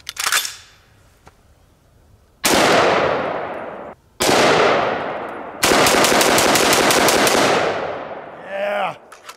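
A V7 AR-15 rifle fires 5.56 full metal jacket rounds at steel: one close sharp shot, two single loud cracks with long ringing decay, then a rapid string of shots dumped in quick succession, followed by a brief voice.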